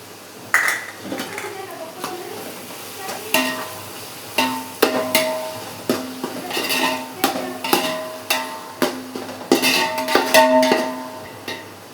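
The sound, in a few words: tomatoes and ginger garlic paste being stirred and sautéed in pan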